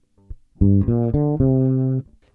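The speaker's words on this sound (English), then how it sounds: "So my dry bass signal sounds like this." A dry fretless bass guitar without compression plays a short run of several sustained, close notes with soft attacks, preceded by a few light finger noises, alone and uncompressed.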